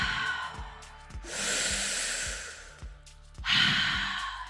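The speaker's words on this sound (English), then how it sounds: "let's shift that breathing in through the mouth, out through the mouth" Deep breaths drawn in and pushed out through the mouth during a guided breathing session, slow audible inhale-exhale cycles, close and clear, with faint rhythmic pulsing underneath and no speech.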